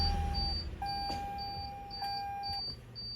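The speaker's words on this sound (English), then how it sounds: "You have a sure deploy system in here as well. That's what that rear beeping was." Repeated electronic warning beeps from the power ramp deploy system of a 2021 Toyota Sienna wheelchair-accessible van, a steady tone at regular intervals with higher chirps, over a low rumbling background hum.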